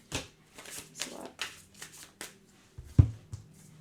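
Tarot cards are shuffled and handled close by, with a run of soft riffling flicks and slaps in uneven bursts, ending in one sharper tap.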